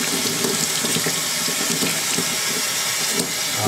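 Water squeezed out of a wet rabbit pelt pours and splashes steadily into a sink, a continuous close rushing sound with no talking.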